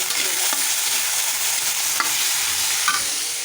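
Tadka tempering sizzling steadily in hot oil for sabudana khichdi, a dense continuous hiss with a few faint clinks of stirring, no voices.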